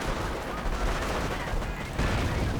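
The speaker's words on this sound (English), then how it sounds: "Getting sniped though, two snipers now out." Dense, continuous gunfire from a real-time strategy game battle, including sniper shots amid an infantry assault, forming a loud, steady wall of noise throughout.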